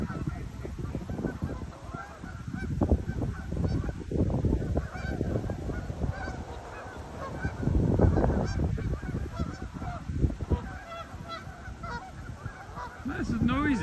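A flock of Canada geese honks continuously, many overlapping calls near and far forming a loud, busy chorus.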